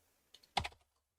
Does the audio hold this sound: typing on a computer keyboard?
yes